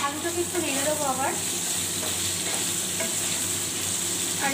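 Potatoes for aloo posto frying in a pan over a medium gas flame are stirred, with a steady close sizzle under repeated scraping strokes and a brief voice early on.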